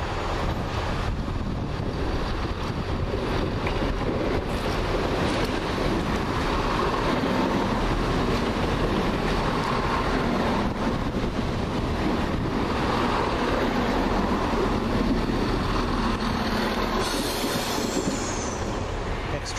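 A Class 168 train pulls into London Marylebone, a steady broadband rumble of wheels and engine with wind noise running through the whole stretch, fairly loud and continuous.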